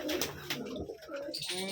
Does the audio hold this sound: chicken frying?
no